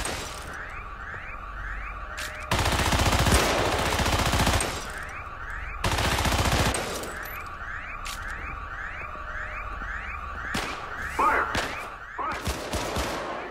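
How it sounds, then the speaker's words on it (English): Defense turrets in the Syndicate video game unleash loud bursts of rapid automatic gunfire, two long sustained volleys separated by quieter stretches of mechanical game sound effects, with no speech. "Breaching more complex systems like defense turrets makes short work of low-level security forces"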